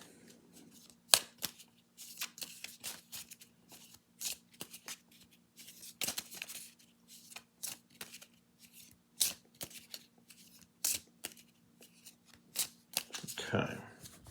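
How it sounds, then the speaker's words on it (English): Repeated quick riffles of playing cards being shuffled for a board game, sharp bursts recurring at irregular intervals in a quiet room, with a brief faint voice. "And now we'll give them a shuffle."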